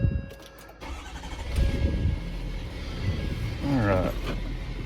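A 2012 Ford F550 4x4 mechanics service truck with crane and compressor cranks over and catches, settling into a steady mid-pitched engine rumble, heard up close from the cab alongside someone talking.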